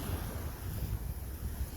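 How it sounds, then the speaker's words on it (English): Ocean waves washing ashore in Hawaii, a steady broadband surf roar with gentle swells and some wind rush, continuous and fairly near, no voices. "I would go to sleep and listen to these waves."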